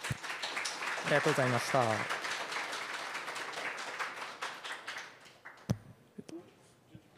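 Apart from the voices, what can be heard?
audience applause after a PyCon JP talk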